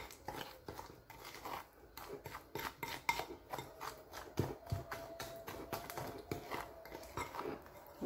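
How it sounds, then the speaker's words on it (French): A spoon stirs and mixes a thick turmeric face mask paste in a small bowl, giving quiet, irregular scraping and clinking strokes in close succession. "Je mélange le tout ensemble. Donc on mélange vraiment"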